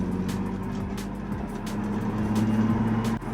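A car with a dodgy clutch drives along after a driveway clutch install, its engine droning steadily and loudly with a low hum and a faint whine rising near the end. No one speaks.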